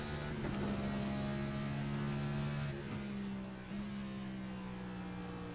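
Onboard NASCAR race car engine at Phoenix Raceway, a loud steady droning roar with held throttle, a brief dip and shift around the middle before the engine note settles again, no voices.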